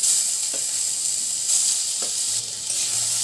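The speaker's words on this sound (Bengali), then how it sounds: "কালো জিরের সঙ্গে রসুনটা ভালো করে একটু ভেজে নেব।" Garlic paste and nigella seeds fry in hot oil with a continuous bright sizzle close by, a few soft spoon scrapes passing through it, and no voices.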